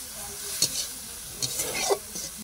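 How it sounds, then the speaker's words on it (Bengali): Prawns fry in hot oil with garlic, tomato and green chili, giving a close, steady sizzle broken by a few sharper scrapes and stirring bursts. "এখন আমি এই করছি চিংড়ি মাছ ভাজা, রসুন টমেটো আর কাঁচা লঙ্কা দিয়ে।"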